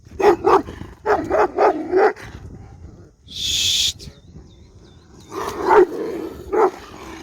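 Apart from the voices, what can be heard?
dogs barking and scuffling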